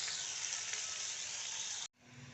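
Onion sautéing with salt in a pan over full heat, a steady loud sizzle that cuts off abruptly near the end, leaving a quieter hiss.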